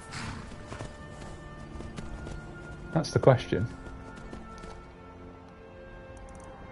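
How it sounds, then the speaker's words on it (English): Hooves of a yellow Palomino horse clip-clop while it is ridden in the Skyrim video game, a short burst of several close footfalls in the middle, with a person talking quietly at the start. "I want to ride my new horse"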